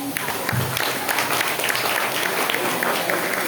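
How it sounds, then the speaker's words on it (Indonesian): Audience applause at a Balinese language month event in a village hall, brisk scattered clapping close to the microphone over a dense background wash, steady for several seconds. "ijanin tepuk tangan nggih"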